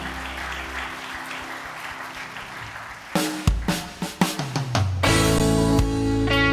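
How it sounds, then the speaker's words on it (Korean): A church congregation applauds during a Sunday worship service, with a sustained organ or keyboard chord beneath; strong sharp accents and a swell of louder sound come in over the second half. "영광의 박수를 올려드립니다"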